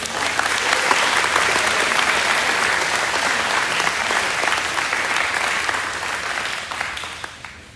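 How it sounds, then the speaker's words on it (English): A school audience applauds at an academic awards ceremony, dense sustained clapping from a crowd that holds steady and then tapers off at the end. "Let's give them one more round of applause."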